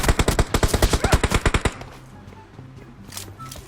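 A rapid burst of about a dozen loud automatic gunshots in the mobile shooter game PUBG Mobile, evenly spaced and close, then cutting off to quieter game ambience.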